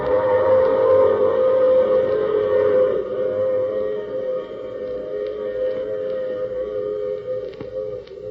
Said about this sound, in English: I take this same train every week at the same time.